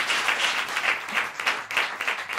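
Audience applause for Vincent Lebras at a jazz show, a steady wash of many hands clapping at moderate level with slight swells, no voices over it.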